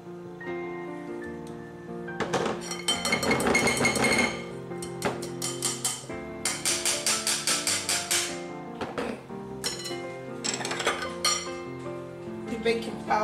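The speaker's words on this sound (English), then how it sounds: "let me quickly mix the dry ingredient" Utensils clink and scrape against a bowl while dry ingredients, including all-purpose flour, are mixed for cheese ball snacks: rapid repeated metallic taps in bursts, close and fairly quiet, with no talking.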